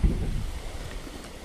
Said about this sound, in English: a nice acequia flowing.